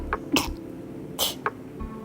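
A baby lets out a few small, sharp sneezes, short bursts spaced unevenly, close by with no talking.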